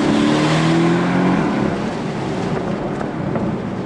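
2016 Porsche 718 Boxster engine on a paddle downshift in manual mode, a loud rising blip of revs that settles into a steady roar of engine and road noise.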